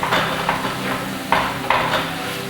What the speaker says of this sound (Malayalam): ഇതിട്ടിട്ട് ഒന്നുകൂടി ഒന്ന് വഴറ്റിയെടുക്കാം.